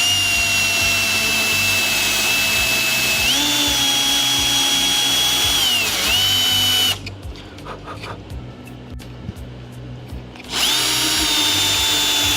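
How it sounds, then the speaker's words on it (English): A power sander works on a small part of a JS Elcano model ship, running loud and continuous with a steady whine that shifts pitch, cutting off for a few seconds mid-clip before starting up again. "If I just sand a little bit."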